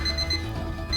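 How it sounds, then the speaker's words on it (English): An electronic beep sounds as a steady, bright tone lasting about a second, close and fairly loud, alone with no voices. "Wait, let it beep."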